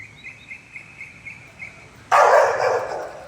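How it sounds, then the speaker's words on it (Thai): A dog barks repeatedly at a temple site, a series of short, fairly faint yelps at a steady pace, followed by a sudden burst of loud broadband noise near the end. "ระวังหมาดุ"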